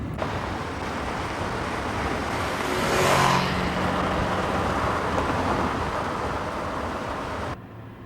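A twin overhead cam, 16-valve fuel-injected car engine drones steadily throughout, swelling briefly as if passing close, then settling back into a continuous hum with no voices.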